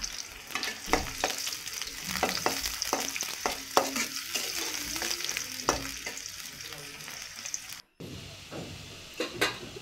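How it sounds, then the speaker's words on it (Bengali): Onions and garlic brown in oil for a lentil and kochu-mukhi curry while being stirred, a continuous close sizzle with frequent spatula scrapes and a very brief dropout near the end. "এরপর এগুলো আমি ব্রাউন কালার যতক্ষণ না আসে ততক্ষণ আমি এগুলো নেড়ে নিব।"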